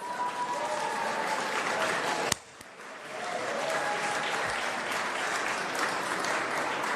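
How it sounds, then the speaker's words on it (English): A large audience applauds at a video game awards show, the Golden Joystick Awards, with steady, dense clapping that briefly cuts out, then resumes just as full. "We have got to applaud the hardworking team who put this event together, as well as our incredible sponsors."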